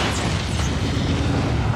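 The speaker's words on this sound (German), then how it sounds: "dem Hai einen Sauerstofftank ins Maul zu stopfen und zur Explosion zu bringen" An oxygen tank explodes in a shark's mouth in the film Jaws, a loud, sustained rumbling boom with broad crackling noise across the whole stretch.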